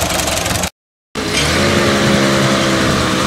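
A Ford 8N tractor engine runs loud and close, with a steady, rough mid-pitched drone. A brief dropout near the start is followed by continuous running.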